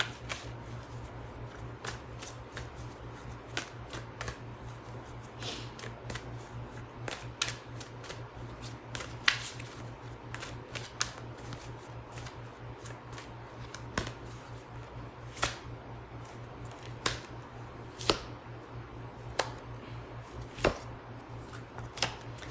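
Angel cards being shuffled for a romance reading give quick, irregular papery snaps and taps at close range over a steady low hum in a quiet room.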